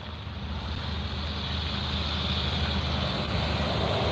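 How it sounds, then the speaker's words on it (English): Trucks pass by in a steady, loud rumble of heavy traffic, a continuous low roar with wind-like hiss and no one talking over it. "lots of trucks."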